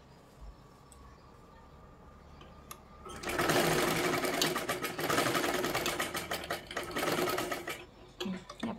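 A sewing machine stitches the neck seam of a boat neck katori blouse, starting with quiet handling and then running in a loud, fast rattling burst for about five seconds before slowing, stopping and giving a few clicks.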